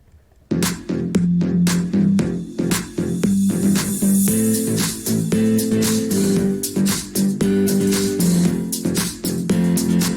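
A mellow electronic music drop made in FL Studio, with a steady beat of punchy percussion hits over sustained low synth tones, continuous and even in energy.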